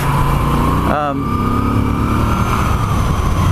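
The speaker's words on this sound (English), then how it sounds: "Bike really does sound good, even stock." A Moto Guzzi V7 III Special motorcycle with a stock exhaust runs steadily with a continuous engine drone and a brief rev rise near the start, and a rider talks over the sound throughout.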